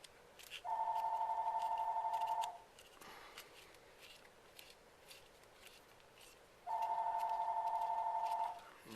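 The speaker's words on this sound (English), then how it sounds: "Of course the phone would ring." A telephone rings in two long, steady electronic bursts separated by several seconds of quiet room tone, heard during a grip installation on a Walther PPQ pistol.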